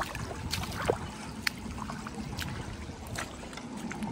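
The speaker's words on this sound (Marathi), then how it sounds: "हे बघा पूर्ण पाणी बांधावरून वाहते" Water running over the earthen bund of a flooded paddy field in Konkan rice country, a soft steady trickle with faint splashes, moderately quiet and alone, no voices.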